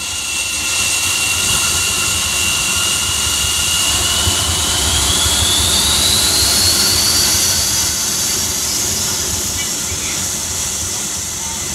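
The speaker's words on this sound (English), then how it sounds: "Sony Stereo now takes you into the air with the sound of a jet taking off at Tokyo International Airport." A jet airliner taking off at Tokyo International Airport, a loud, steady roar with a high whine that rises and sweeps upward over about twelve seconds, heard alone with faint hiss, as on a stereo demonstration tape.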